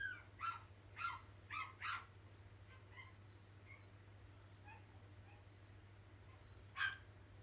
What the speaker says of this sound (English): Did neighbors get a puppy or something?